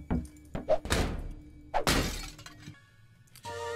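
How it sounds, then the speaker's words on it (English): Picture frames shatter in the video game Kill It With Fire: two separate sharp glass-breaking crashes with dull thunks, close and loud, then a short electronic chime. "We need to shatter picture frames."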